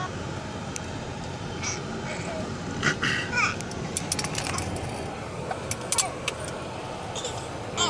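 A car climbing a serpentine mountain road on Tenerife, with a steady engine and road rumble from inside the cabin, people talking, and scattered light clinks and rattles.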